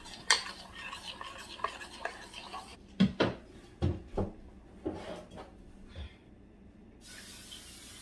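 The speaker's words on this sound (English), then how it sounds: "I'm gonna mix the pancakes in here." Kodiak Cakes buttermilk pancake batter is stirred in a bowl, with a series of close clinks and scrapes of the utensil against the bowl in uneven bursts, then a quieter stretch.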